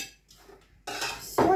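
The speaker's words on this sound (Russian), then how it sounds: "Все, сейчас крышками закрою." Metal lids set onto pots of homemade zucchini caviar in a kitchen, a quiet shuffle followed by a loud clattering clink of metal against metal and then a sharper clang as the last lid lands, close and without talk.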